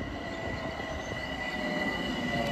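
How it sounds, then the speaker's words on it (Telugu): Commuter train passing through Scarsdale station near New York City, a steady, loud rumble of railcars with metallic wheel squeal and rail noise running throughout, no talk. "This train is going to opposite direction, going in north wide trains."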